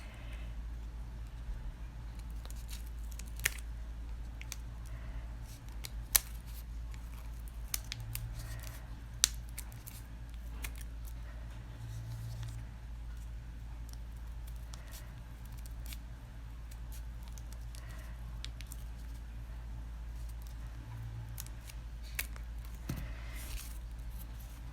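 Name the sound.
scissors cutting folded tissue paper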